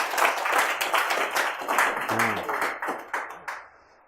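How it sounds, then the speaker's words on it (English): A live audience claps for a performer at an evening event, a moderate burst of hand claps that gradually thins and fades, with a voice speaking over it near the end. "Give him a round of applause."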